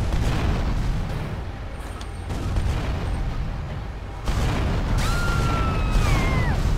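A tank in GTA Liberty City Stories fires and blows things up, with dense, continuous booming blasts and rumbling debris over a constant loud engine drone, a fresh burst hitting about two-thirds through, then a short whistling tone.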